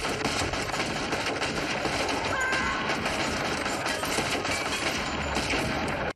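Dense, sustained automatic gunfire from a firefight in the film Reservoir Dogs, a continuous loud roar of rapid shots lasting several seconds without pause before cutting off abruptly.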